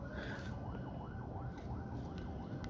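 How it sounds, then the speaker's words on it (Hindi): A wailing ambulance siren cycles rapidly up and down, faint and distant beneath a steady background hum, with no voices. "आज एम्बुलेंस की काफ़ी आवाज़ें सुन रहा हूँ मैं"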